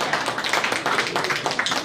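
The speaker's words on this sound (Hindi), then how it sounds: "जोरदार तालियां।" An indoor audience gives enthusiastic applause at an event, a dense, fast patter of many hands clapping evenly and close, with no talk over it.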